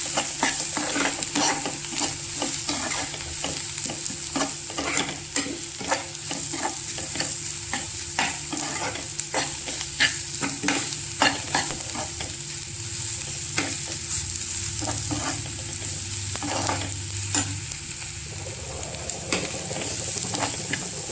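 A spoon stirs spices in a frying pan for egg bhurji, giving repeated sharp scrapes and taps over a continuous sizzle, close and fairly loud, with no one talking.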